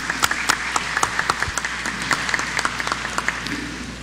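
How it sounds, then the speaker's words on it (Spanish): Audience applause at a congress forum after a law school dean is introduced, steady dense clapping that fills the whole stretch with scattered louder claps. "Un aplauso, por favor."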